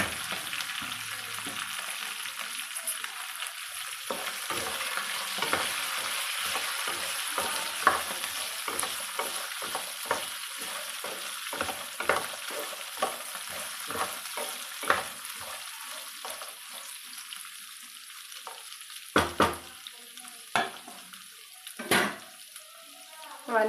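Garlic cloves, mint and chopped bottle gourd pieces cook in a pan with a steady soft sizzle and frequent stirring scrapes, faint water sounds and a few louder clinks near the end.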